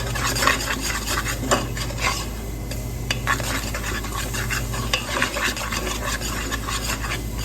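Spices are stirred into chana masala in a pan, a spoon scraping and rubbing against the metal in quick repeated strokes over a faint sizzle, close and fairly loud.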